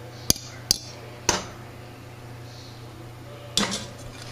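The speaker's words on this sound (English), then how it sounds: "And I'm going to dish out some noodles." Noodles for hamburger stroganoff being dished onto a plate in a home kitchen: four sharp, close clinks and knocks of a utensil against dishware, spaced irregularly, with quiet pauses between and no voices.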